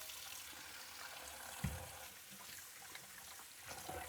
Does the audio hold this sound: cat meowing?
no